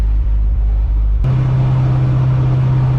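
A 1970 Dodge D100 pickup's engine running just under 2,000 RPM, heard as a loud, steady low drone that shifts abruptly to a different hum partway through, with no talking.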